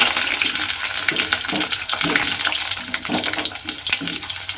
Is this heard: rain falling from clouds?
no